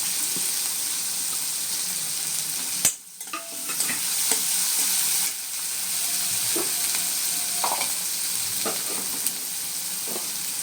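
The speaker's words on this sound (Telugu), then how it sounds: "ఉల్లిపాయ, పచ్చిమిర్చి 2 వేసేద్దాం. ఒక్కసారి ఇలా తిప్పుకున్న తర్వాత ఇప్పుడు కరివేపాకు" Onions, green chillies and curry leaves sizzle steadily in hot oil, a loud continuous frying hiss with a brief dip and scattered stirring clinks throughout.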